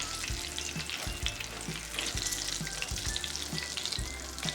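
Homemade KFC-style crispy chicken fries in oil in a covered pan over lowered heat, a dense continuous crackle and sputter with soft, regular low thumps running beneath it.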